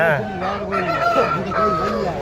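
A rooster at a village livestock market near Pollachi crows loudly and close, its drawn-out call blending into clucking over about two seconds, with no talking.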